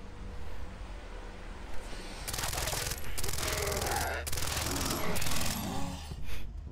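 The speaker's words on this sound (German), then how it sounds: "Sind alle schallgedämpft übrigens, die Waffen." Silenced weapons firing in the video game Far Cry 3, a series of muffled bursts in quick succession over a dense layer of game background noise, fairly loud and close, with no talk.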